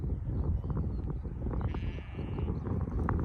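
A sheep bleats once in a paddock during lambing season, a moderately loud call heard over steady outdoor background noise with no talking.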